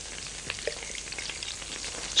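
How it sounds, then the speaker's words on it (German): Meat browns in hot oil and is deglazed with white wine, giving a soft, continuous sizzle with faint stirring, close by and without speech, with a brief louder burst at the end. "Ich lösche jetzt mit Weisswein ab,"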